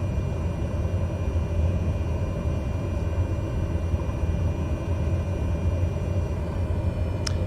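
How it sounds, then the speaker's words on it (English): A Cessna Grand Caravan turboprop taxis in a flight simulator game at a New York airport, a loud, steady engine drone and rumble with a brief faint click near the end and no voices. "So taxiing all over Grace's creation"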